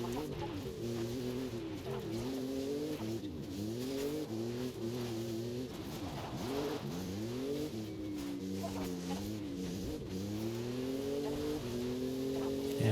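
A car in Forza Horizon 5 drives erratically, its engine rising and falling in pitch as it revs and shifts, loud and continuous with no pauses throughout.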